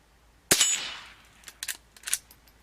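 A Henry Silver Eagle .22 carbine fires one sharp, loud shot followed by a decaying tail, then several fainter cracks of rounds striking a target downrange.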